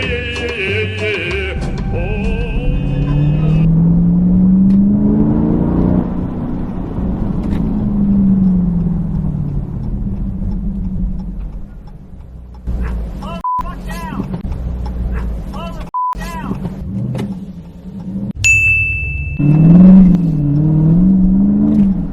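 Dodge Scat Pack V8 engine revving loudly nearby, its deep exhaust note rising and falling through several throttle blips and a drawn-out acceleration, with brief cuts between revs.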